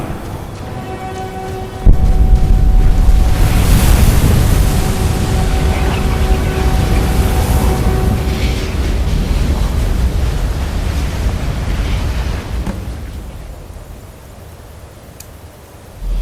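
A dragon breathes a fire Shout in Skyrim: a loud, roaring rush of flame erupts suddenly, sustains for around ten seconds, then fades away, with no speech over it.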